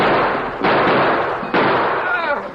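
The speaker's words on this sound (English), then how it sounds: "We got to shoot it out." Gunfire from a shootout in an old western radio drama: two loud, sharp shots about a second apart, followed by a brief whining ricochet.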